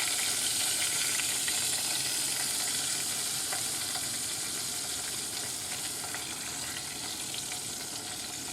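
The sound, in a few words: chicken frying in hot grease in a pan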